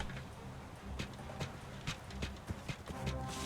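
Horse hooves clip-clop at a steady walking pace in the King's Quest video game, a series of sharp, close knocks over a soft, busy game background.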